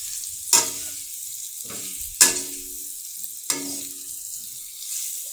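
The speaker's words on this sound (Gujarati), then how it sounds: "એને સારી રીતે મિક્સ કરી લઈશું આપણા વઘાર સાથે" Pieces of dhokli are stirred into a hot chilli tempering in oil over a low flame, and the spoon scrapes the pan in three sharp bursts, each followed by a fading sizzle over a quiet background hiss.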